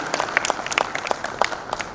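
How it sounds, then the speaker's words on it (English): An audience at a gathering of mutual fund distributors claps in a brief burst, with distinct individual hand claps audible close by. "So first round of applause for all the mutual fund distributors who came."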